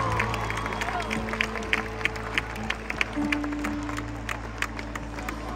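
A concert crowd at a live show in Bahrain applauds the opening act, with scattered clapping and cheering over a sustained hum, and a voice speaks over it.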